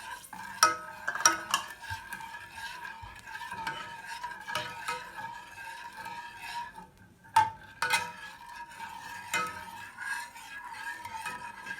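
Granola mixture with vanilla and salt being stirred in a pot, a steady scraping stir with soft sizzle and occasional sharp clinks of the utensil against the pot's side, close and continuous.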